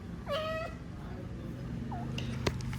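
A female cat meows twice, a long rising meow near the start and a shorter one about two seconds in, over steady low household background noise, with a faint click near the end.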